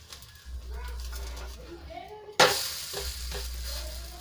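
A snack fries in oil in a pan, a steady close sizzle under a speaking voice, then a sharp clatter as it is flipped and the sizzling swells louder afterward.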